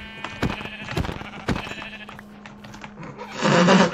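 A sheep in a video game lets out several short, clear bleats in a quick uneven run, followed by a brief burst of louder noise at the very end.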